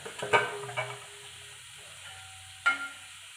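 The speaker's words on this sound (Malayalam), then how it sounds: "ഇനി അതിലേക്ക് ഈ വറുത്ത് വെച്ച ചിക്കൻ നമുക്ക് ഇട്ട് കൊടുക്കാം" Fried chicken tipped into cooked spice masala for a traditional chicken curry gives a quiet sizzle, with a few soft clinks and scrapes of stirring and a sharp clatter near the end; no talking.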